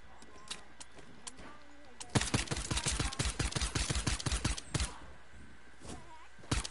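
Video game gunfire, a rapid string of sharp close shots that runs for nearly three seconds with a few isolated shots before and after, heard beside faint talk.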